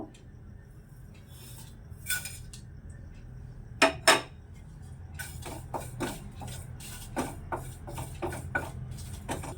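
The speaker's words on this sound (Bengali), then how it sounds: "এটা শুকনো কড়াইয়ে ভেজে নেব।" Whole spices, including cloves and fennel seeds, dry roasting in an empty pan, heard as sparse clinks and scraping rattles, a couple of louder knocks near the middle, faint and close with no talk.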